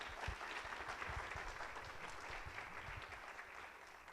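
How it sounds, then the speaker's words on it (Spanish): Audience applause welcoming Dr. Ortega to the stage at a family restorative justice panel: a steady patter of many hands, fairly quiet and evenly spread, sounding from a small-to-medium crowd for about four seconds. "recibamos con un caluroso aplauso al doctor Ortega"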